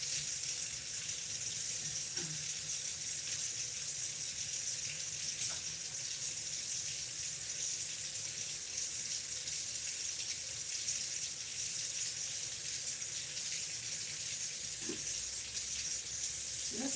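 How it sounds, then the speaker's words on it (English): Water runs steadily from a kitchen sink tap during washing of harvested produce, a continuous close hiss with a few faint clinks against the basin. "I hate running the water constantly."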